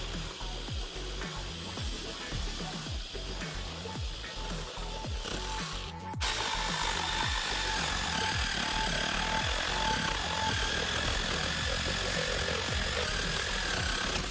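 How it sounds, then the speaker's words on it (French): A WORX WX550 reciprocating saw fitted with a wood blade cuts into a 10x10 wooden rafter. The blade gives a rapid, rhythmic rasp that shifts into a louder, steadier motor roar partway through, continuous and close, with no speech. "Je effectue un premier test sur un chevron de 10 par 10 avec une lame de scie sable bois."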